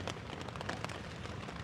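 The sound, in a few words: heavy rain during storm while camping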